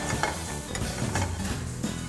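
Finely chopped tomato fries with spices in a pan, sizzling steadily while being stirred, with soft scraping and small utensil knocks close by and no talking.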